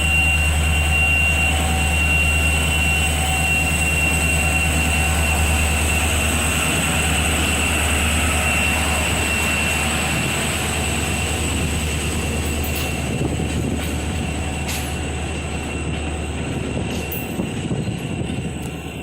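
A GP30-2 diesel locomotive rumbles past with a deep steady engine drone and droning tonal hum, wheels faintly squealing, slowly fading toward the end.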